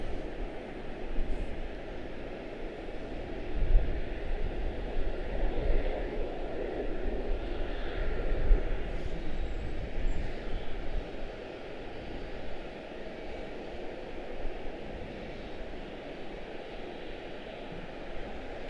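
A CRJ-900 regional jet at Charlotte airport, its engines producing a moderate, steady distant roar with wind-like rushing that rises and falls slightly over nearly twenty seconds, without talk.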